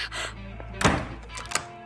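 A door is shut with a single solid thunk close by, followed by a fainter knock a moment later, amid a quiet indoor scene.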